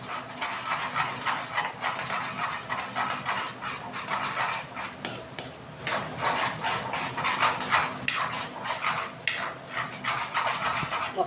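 Pork masala stirred with a little added water in a metal pan, a spoon scraping and clinking against the pan in an uneven, busy rhythm, close and fairly loud, with no voices.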